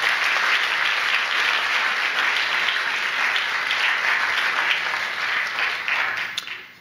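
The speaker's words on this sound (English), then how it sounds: "Please give all of those that made this evening possible a big round of applause." A large audience at an editorial awards evening gives a big round of applause, dense and loud from start to finish, tapering slightly at the very end.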